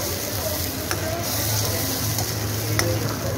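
Ginger dropped into hot oil while frying a mash daal, a steady close sizzle with a low frying rumble and faint stirring scrapes running throughout.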